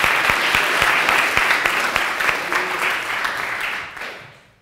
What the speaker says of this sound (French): j'aimerais les applaudir